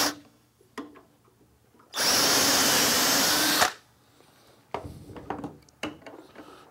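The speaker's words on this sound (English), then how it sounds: "then drill the second hole." A power drill whirs loudly and steadily for about two seconds as it bores a dowel hole into wood using a doweling jig, framed by soft clicks and handling noises.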